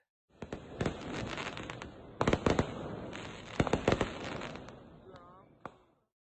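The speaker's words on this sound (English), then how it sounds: "Unfortunately, as usual, Dixie was scared of the fireworks, so she went and hid under the bed." New Year fireworks bursting outside a house in San Felipe, Mexico: loud clusters of sharp cracks and pops in rapid bursts with crackling between them, a brief whistle near the end, then fading out.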